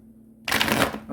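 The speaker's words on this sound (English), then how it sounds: "Let me just get a good shuffle." An oracle card deck is shuffled in one loud, dense riffling burst that starts after a short stretch of low hum and carries on to the end, with no talking.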